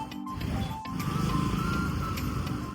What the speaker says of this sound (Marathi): आता आम्ही तलवार चौकच्या ट्रॅफिक मध्ये आहे